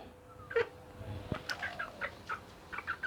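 A young chicken, three months old, gives a string of short chirping clucks, fairly close but soft, spaced irregularly over a quiet background.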